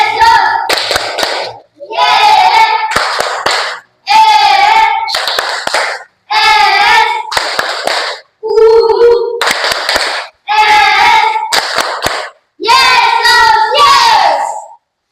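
A primary-school class claps in a fast patterned rhythm, eight loud bursts of quick, tight hand claps separated by brief pauses, close and crisp with no talking.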